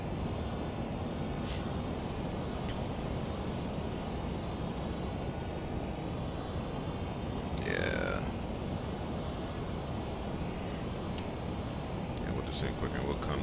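Learjet 35A engines in Microsoft Flight Simulator as power is pulled back for descent, a steady broadband jet roar with a high whine, with a brief chime-like tone partway through.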